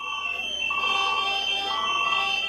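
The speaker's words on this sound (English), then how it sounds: "alarms sound as another neonatal unit goes dark" Alarms beep and tone without a break inside a neonatal unit at Al Helu Hospital in Gaza as its power fails. Several steady electronic pitches overlap, loud and close, with no talk over them.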